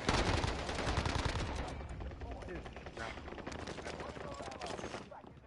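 Dense automatic gunfire from a Call of Duty Rebirth match hammers continuously, loud and close, with rapid overlapping shots that ease slightly toward the end.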